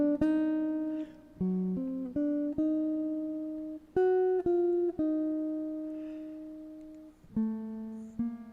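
Clean electric jazz guitar, a 1952 Gibson ES-175, plays a short phrase of separate notes and chords, each struck and left to ring and decay, close and alone with no talking.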